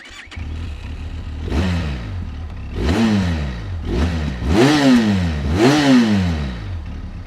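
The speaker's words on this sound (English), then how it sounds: "And it's revving quite nice." A Benelli TRK 502X motorcycle engine revs four times in a row, each blip rising sharply in pitch and dropping back to a rough idle, loud and close.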